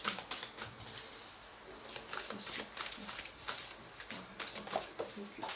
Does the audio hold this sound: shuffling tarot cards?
yes